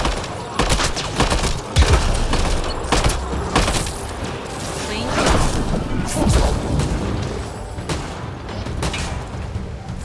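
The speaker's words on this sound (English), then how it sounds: "Grenade incoming!" A grenade explosion in Mass Effect Andromeda booms amid loud, continuous gunfire and combat noise, with heavy thuds standing out from the sustained barrage.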